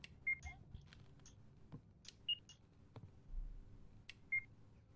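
Short electronic beeps from a horror-themed video game, three or four brief tones spaced irregularly over a quiet background with soft clicks and faint movement.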